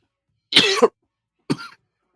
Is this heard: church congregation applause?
no